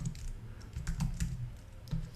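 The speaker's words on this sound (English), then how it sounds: "I go down arrow and I hit enter." Computer keyboard keystrokes, a quick run of clicks followed by a pause and a final press, close and alone.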